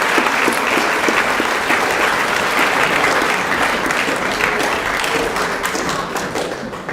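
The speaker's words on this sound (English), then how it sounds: "We'll give a round of applause for this part of the group." A crowd applauds at a school co-curricular prize giving with steady, full clapping that stays loud throughout and eases slightly toward the end.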